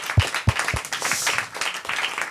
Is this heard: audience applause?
yes